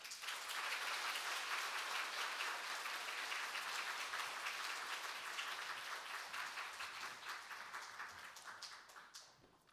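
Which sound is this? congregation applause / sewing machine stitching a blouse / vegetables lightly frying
congregation applause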